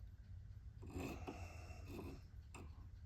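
Small file scraping a starter notch into knife liners, a few faint short rasping strokes close by in a quiet room.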